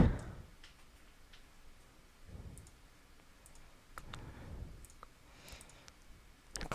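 Sharp computer mouse clicks, scattered and irregular, a dozen or so close taps over a quiet background with faint low rumbles.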